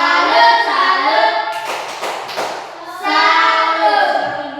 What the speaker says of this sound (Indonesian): Tepuk salam dulu untuk Mecha.